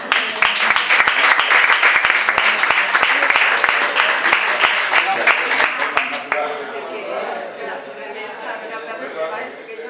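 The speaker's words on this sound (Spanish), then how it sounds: "Se me hace un aplauso" Loud, close applause from a crowd at a book presentation in a bar, sharp individual claps layered over a dense roar, fading after about six seconds into murmuring voices and room chatter.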